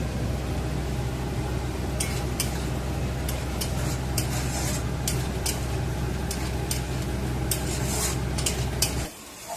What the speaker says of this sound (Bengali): এবার বেরেস্তাটা করে নেব। লাল লাল করে ভেজে নিই।